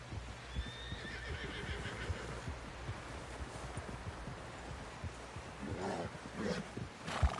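A horse whinnies and snorts in a video game over a dense bed of outdoor game ambience, with hoof clatter and shuffling throughout.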